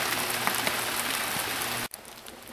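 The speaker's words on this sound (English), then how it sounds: "It's really pouring down now" Heavy rain pours down in an even, dense hiss with scattered drop patters, holding steady until it cuts off abruptly near the end.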